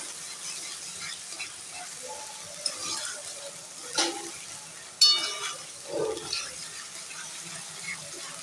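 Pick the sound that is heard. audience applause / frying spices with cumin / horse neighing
frying spices with cumin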